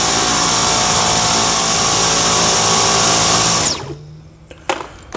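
A Dyson V10 Motorhead cordless vacuum works deep into carpeted stairs with a loud, steady high whine that cuts off abruptly partway through, followed by a few soft knocks.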